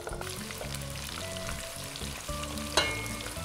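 Onions fry in oil with a steady sizzle while being stirred, the spoon scraping and clattering now and then, with one sharper knock near the end.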